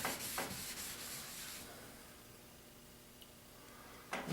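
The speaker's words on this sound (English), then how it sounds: "Working the stain into the wood." Green wood stain is rubbed by hand into a table, a close, soft rubbing with a few quick strokes at first that trails off into a quiet hiss. A brief rub returns at the very end, with no talking.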